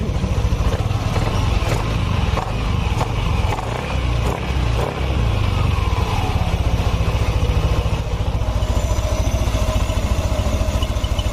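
A Yamaha Nmax scooter engine runs steadily after repair of a noisy engine, a continuous smooth idle hum with even low rumble and light mechanical clatter, close and alone throughout.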